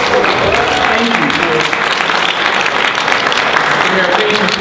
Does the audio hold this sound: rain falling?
no